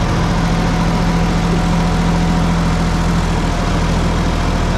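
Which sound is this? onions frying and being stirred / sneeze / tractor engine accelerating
tractor engine accelerating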